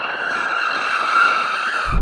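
A BMW M2 Competition's tyres squeal in a sustained, loud, high-pitched skid that holds steadily for about two seconds, with a low thump at the very end.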